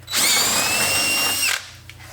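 A power drill bores holes for a Toyota Tacoma front license plate mount, a loud steady high whine running about a second and a half before cutting off abruptly, with no talking.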